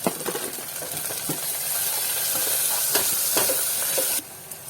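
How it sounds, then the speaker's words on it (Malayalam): Garlic, green chilli and coriander leaves sautéing in a pan, a steady close sizzle and hiss with a few stirring scrapes and clinks near the start, holding loud and even before cutting off near the end. "വെളുത്തുള്ളി പച്ചമുളക് ചപ്പും കുടിയും ഇതൊക്കെ ഇട്ടിട്ട് നന്നായിട്ടൊന്ന് വഴറ്റിയെടുക്കാം"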